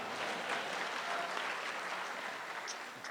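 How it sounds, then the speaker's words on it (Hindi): Dense, steady audience applause at an Amanullah comedy show in Muscat, a continuous wash of many hands clapping that holds at the same loudness throughout, with no voices rising above it. "इनके लिए बहुत सी तालियां, बहुत सी तालियां"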